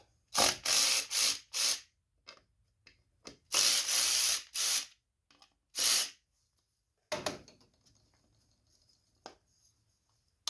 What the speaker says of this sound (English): you'll need a 5/16 socket. We want to go ahead and loosen these up.